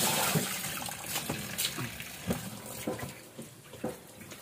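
Tap water runs steadily over alugbati leaves as they are washed by hand, a close, continuous splashing with irregular swishes and knocks of handling, with no talking over it.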